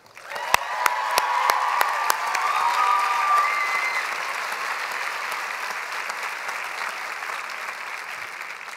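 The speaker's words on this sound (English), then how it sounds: "Could we have one more round of applause for Sarah, please?" Steady audience applause at a master's degree graduation ceremony, rising quickly and holding as a dense, even roar of clapping for about nine seconds, with a few sharper claps standing out at the start.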